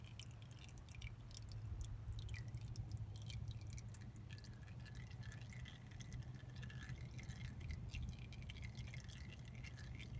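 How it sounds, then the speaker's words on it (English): Faint, irregular dripping of engine oil draining from a Jeep Wrangler TJ, with soft taps against a low steady hum, no voices, continuing quietly throughout. "Go ahead and let it drip all the way out."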